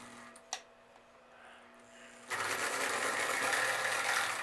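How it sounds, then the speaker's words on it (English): A Marx tinplate toy machine gun is cranked, its mechanism ticking rapidly against a leaf spring in a dense, steady rattle close by, starting after a soft knock and a quiet pause. "it will go click, click, click, click on a leaf spring, and it's supposed to sound like a machine gun"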